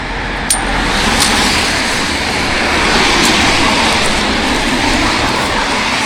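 Busy road traffic rushes past close by, a continuous loud roar of passing vehicles with a few sharper swells as individual cars go by, no voices heard.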